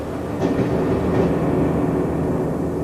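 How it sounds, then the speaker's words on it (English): A train travelling through mountainous forest country in Yugoslavia, its steady rumbling run on the rails heard close and continuous, without any voices. "The train went deeper and deeper into Yugoslavia"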